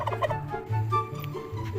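A turkey gobbles in short, repeated bursts of its rattling call, fairly close and clear with no talk over it.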